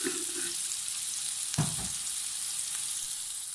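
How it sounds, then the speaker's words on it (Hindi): Potato pieces fry in a pan with a continuous soft sizzle, interrupted midway by a brief louder clatter of a utensil, then the hiss settles back; no one speaks. "और आलू भी मैंने फ्राई कर लिए हैं, फ्राई हो रहे हैं अभी"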